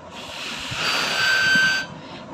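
An old harmonica played to imitate a train gives a steady, reedy, wheezing chord with a thin whistle-like tone on top. It swells for about two seconds, then cuts off, with no talk.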